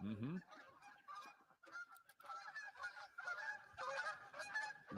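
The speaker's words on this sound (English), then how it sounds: "Geese are loud." Several geese honk loudly and overlap in a noisy, chattering chorus, with a sharp honk at the start and continuing calls throughout.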